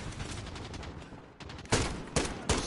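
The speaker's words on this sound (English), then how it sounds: "I'm just gonna shoot him." Gunfire in the video game Modern Warfare: rapid bursts of shots under faint game ambience, then three loud, separate blasts in the final second.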